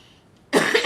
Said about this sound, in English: And I'm going to have a cough.